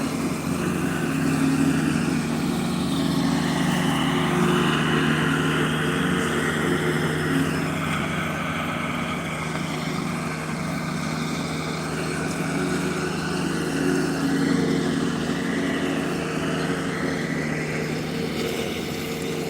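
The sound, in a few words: lawn mower running while mowing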